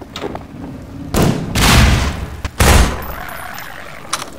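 Heavy magnum pistol shots in Half-Life 2, three loud booming reports spaced about a second apart, each with a rolling echo tail, close and dominant.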